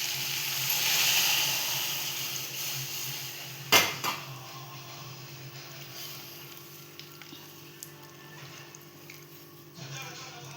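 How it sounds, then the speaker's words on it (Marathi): Dal and water poured into a hot cooking pot of walache birde curry: a loud sizzling hiss at first, then a sharp splashing hit as the liquid goes in, settling into a quieter simmering bubble with faint clinks. "आता आपण डाळ टाकणार आहोत पाणी"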